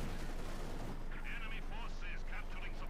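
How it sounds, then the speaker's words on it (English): Gunfire in a Company of Heroes 2 battle from a Soviet side against Wehrmacht, machine guns and heavy fire rattling near a Panzer IV, dense and loud, with a caster talking over it. "and another machine gun there from Vonivan"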